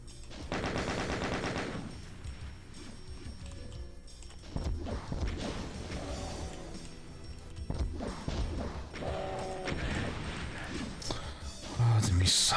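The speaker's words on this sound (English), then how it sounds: "Ah, the missiles. Those Cyber Demon missiles seems to be" Cyberdemon missiles fire in the PC game Doom, played with an SC-88 Pro soundtrack: a rapid burst of shots, then heavy blasts and crashing explosions scattered over several seconds, with music running underneath.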